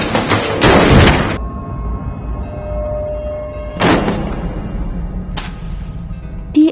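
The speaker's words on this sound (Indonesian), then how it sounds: "Namun tiba-tiba terdengar bunyi tembakan dan Sumin terjatuh" Gunshot sound effects in a Korean priest drama: a loud, sharp blast followed by two shorter cracks, each decaying quickly, with quiet stretches between them.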